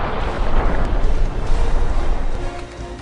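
Nuclear missile blast sound effect, a loud, roaring rumble that swells and churns for several seconds before slowly easing off.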